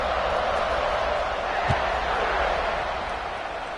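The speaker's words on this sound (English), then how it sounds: "this crowd is buzzing after that last score" A football stadium crowd buzzes after a score, a steady, dense roar of many voices with one brief low thump partway through.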